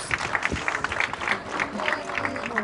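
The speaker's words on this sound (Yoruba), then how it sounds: "Ẹ pàtẹ́wọ́ fúnra yín, kẹ́ pàtẹ́wọ́ fẹ́mi náà." A live audience applauds after a dance performance in a Yoruba film: dense, steady clapping at close range for a few seconds with a faint murmur of crowd voices underneath.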